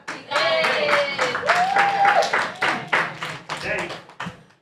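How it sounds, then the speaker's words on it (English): Applause at a live audience show, with loose, uneven clapping from a modest group, individual claps audible, mixed with voices and cheering that tapers off toward the end. "Give me a round of applause."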